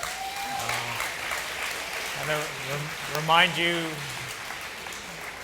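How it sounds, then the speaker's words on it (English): Applause from a crowd in a church conference plenary session, a steady patter of many hands clapping beneath someone speaking over it. "not good to applaud in plenary"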